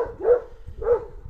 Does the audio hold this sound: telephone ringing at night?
no